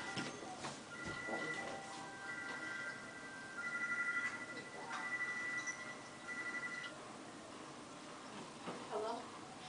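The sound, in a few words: phone ringing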